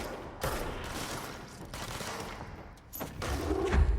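Several sharp gunshots in the action game Control, a few spaced heavy blasts over a low game ambience, moderately loud, with one louder rumble at the end.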